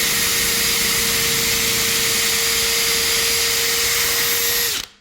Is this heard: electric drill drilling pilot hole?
yes